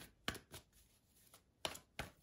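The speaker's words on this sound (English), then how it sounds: "Focus on that while I shuffle." Tarot cards being shuffled, coming as four or five short crisp riffles and snaps spaced irregularly, close and fairly quiet with a faint background hiss between them.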